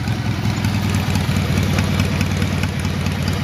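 Vehicle engine idling in gear, a loud, dense low rumble with steady knocking pulses that holds unbroken from start to finish, close up and with no voices.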